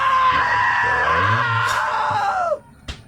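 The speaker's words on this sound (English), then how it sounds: "Now that was a great scream." A loud, drawn-out scream from a character in the video game What Remains of Edith Finch, holding strong for about two and a half seconds before breaking off, followed by a brief sharp sound.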